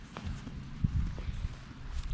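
Horse hooves clip-clop at a horse farm: a few soft, uneven thuds with one sharper knock near the middle, set against steady low outdoor rumble.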